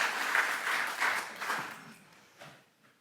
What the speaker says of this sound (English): So can we have a quick applause for the organization?